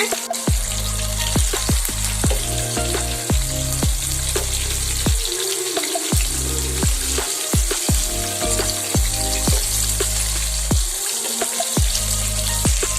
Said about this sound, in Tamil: பொறிச்சு எடுக்கணுங்க ஒரு ஃபிஃப்டீன் செகண்ட்ஸ் ஒரு பக்கம் வந்ததும் திருப்பி விட்டுக்கலாங்க